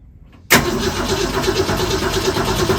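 A cold 1966 Ford Mustang engine cranks abruptly after a moment of near silence, a loud, continuous, rough churning from the starter that goes on without the engine catching.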